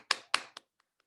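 A few sharp claps, two strong and one softer, then two faint taps, ending in silence.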